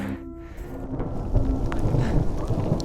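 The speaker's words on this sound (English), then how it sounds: "We are getting beat up by hail. There's a storm over us." Steady rain and hail pelt down in a dense, noisy wash with low rumbling underneath, a storm close overhead and no talking.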